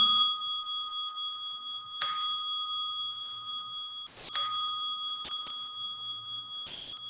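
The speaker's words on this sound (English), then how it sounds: "please listen to the bell." A meditation bell rings clearly several times at a calm, spaced pace, each strike leaving a long, pure, sustained tone that fades slowly, heard alone in a quiet room during a mindfulness session.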